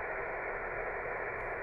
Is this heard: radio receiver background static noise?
yes